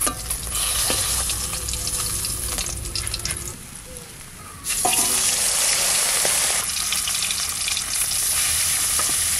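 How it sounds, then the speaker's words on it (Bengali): Katla fish frying in oil, a steady hissing sizzle with scraping stirs, briefly softer midway before the crackle returns at full strength. "মাছ ভাজা হয়ে গেছে, তুলে নেব।"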